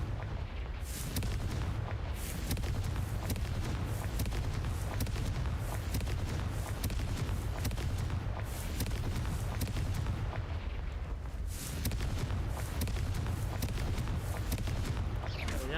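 Fiery spell explosions from Hogwarts Legacy, loud and continuous booming blasts with crackling bursts repeating throughout, dense and close with no pauses.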